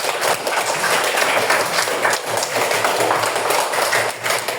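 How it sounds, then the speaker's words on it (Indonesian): Classmates clap together after a lesson, a loud, continuous rattle of many hands close by, steady throughout with no voice over it. "Oke, tepuk tangan untuk kita semua."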